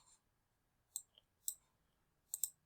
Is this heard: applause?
no